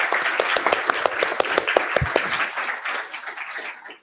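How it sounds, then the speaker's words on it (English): A conference panel audience at a mobile games event claps, producing a dense, lively burst of applause that fades away toward the end. "If everyone could just give them a lovely round of applause."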